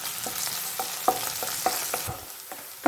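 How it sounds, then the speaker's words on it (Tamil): Garlic, ginger, green chili and curry leaves sautéing in a pan for dal tadka, a close crackling sizzle broken by a few spatula scrapes and knocks, ending in a sudden loud clatter. "கொஞ்சம் கருவேப்பிலை நல்லா வதக்கிக்குங்க."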